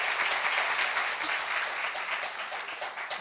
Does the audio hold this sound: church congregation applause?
yes